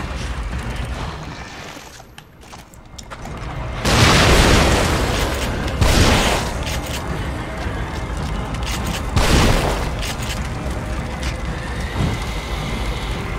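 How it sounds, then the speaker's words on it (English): Grenade explosions in The Evil Within horror video game: several loud booming blasts a few seconds apart, each with a long rumbling decay over a noisy game background. "Grenade?"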